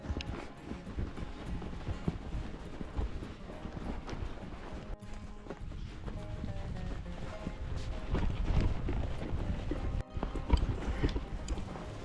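Horses ridden on a mountain lion hunt in Utah clip-clop steadily over the ground, their hoofbeats close and continuous with a light rustle of movement alongside.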